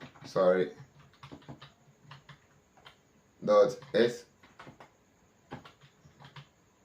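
Commands typed on a computer keyboard while installing Kali Anonsurf: light, scattered key clicks in short runs, with someone talking over them in bursts.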